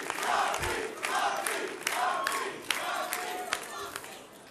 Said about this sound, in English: Let's give Bob Duffy a round of applause